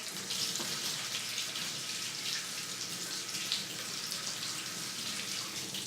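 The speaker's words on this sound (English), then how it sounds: "let me rinse my hands carefully" Tap water runs steadily into a kitchen sink while hands are rinsed, a constant close splashing hiss with no talking.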